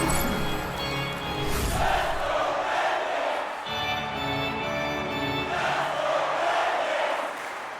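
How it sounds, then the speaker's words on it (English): Simulated hockey arena crowd in an NHL video game between Los Angeles and Detroit, a loud, steady roar of cheering fans that swells and dips with no break in the noise. "you can feel the energy in this crowd"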